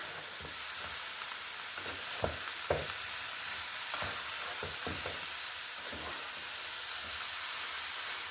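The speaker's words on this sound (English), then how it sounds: "stir them around in there. This skillet's almost not big enough for this." Cauliflower frying in a crowded skillet, with a soft continuous sizzle and a series of clattering stirring strokes spaced through the middle, close but moderately quiet.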